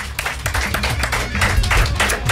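Audience applauding a contestant at a quiz game during a rock bar opening night, a dense burst of clapping lasting a couple of seconds, close and fairly loud.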